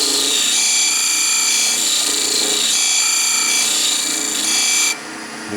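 Beading parting tool cutting a dovetail tenon into spinning wood on a lathe, a bright sustained scraping whine with a steady tone that cuts off sharply near the end, close and loud.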